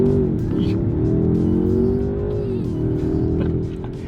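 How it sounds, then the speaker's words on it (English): A 2026 Mercedes-Benz S-Class with a bi-turbo V8, in Sport Plus mode, accelerates hard from inside the cabin. The engine note climbs loudly and steadily, dips briefly at a shift, then pulls again with faint voices. "let's see how quickly we can get this bi-turbo V8 here up to speed"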